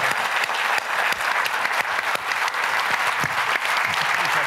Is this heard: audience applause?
yes